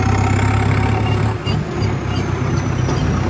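A tractor referred to as the 60, stuck in a soft, wet field, its engine holding a loud, steady low rumble from close range with a brief dip midway.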